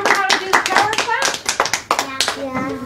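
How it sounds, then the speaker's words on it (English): A group of people, including children, claps hands together in a quick burst while voices cheer over and around the applause, close and lively. "Let's all give her a big clap!"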